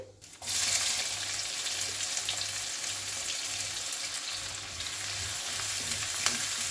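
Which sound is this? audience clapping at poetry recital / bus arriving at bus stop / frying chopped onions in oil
frying chopped onions in oil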